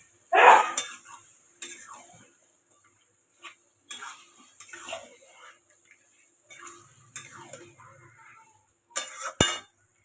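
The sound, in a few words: stirring mutton with spices in a pot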